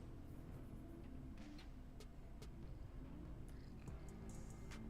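A cat purrs close to a desk, a low continuous rumble that is quiet and steady, with faint background noise and small scattered clicks.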